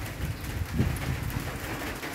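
Heavy rain pours steadily during a storm with flooded streets, a dense, continuous broadband hiss and patter with no talk, evenly loud throughout.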